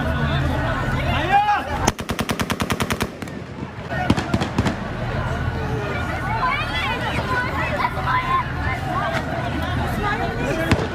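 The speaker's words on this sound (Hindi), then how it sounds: "पीछे से फायरिंग की आवाजें, लगातार फायरिंग की आवाजें काबुल एयरपोर्ट की" Continuous gunfire at Kabul airport, a burst of rapid automatic shots followed by scattered sharp cracks and further volleys over the hubbub of a large crowd.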